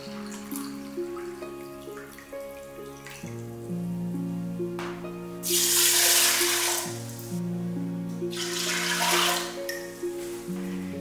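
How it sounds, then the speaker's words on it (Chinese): Tap water runs into a cooking pot holding rice, two bursts of pouring that rise over steady background music. "然后同样的容器接2份水"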